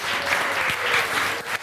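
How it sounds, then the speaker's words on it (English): Classroom applause as Grade 7 pupils clap for a classmate, a dense, steady patter of many small hands lasting under two seconds, close and fairly loud with no talking over it. "Give her a big clap."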